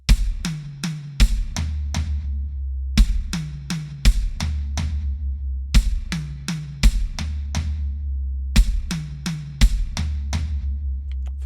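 A drum kit triplet fill played several times over: each pass starts with a low hit, then tom strokes move from the high tom to the medium tom in quick groups, each note ringing with a pitched decay, close and solo.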